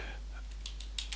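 Keys on a computer keyboard are typed in a quick burst of light, sharp clicks while someone enters a terminal command, with soft breathy speech at the start.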